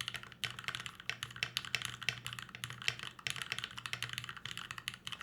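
Rapid, continuous typing on a Candybar tray-mount mechanical keyboard, close and crisp, with dense clacking keystrokes and a few heavier spacebar hits, alone without talk.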